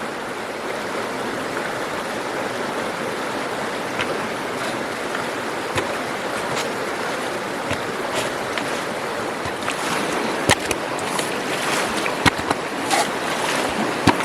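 Water runs continuously through a vogatron gold concentrator at a remote mining claim, a steady rushing and splashing with scattered clicks and knocks, heard close and alone.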